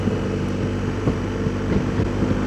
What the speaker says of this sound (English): this 1250 isn't as smooth at low revs in second as my 1200 was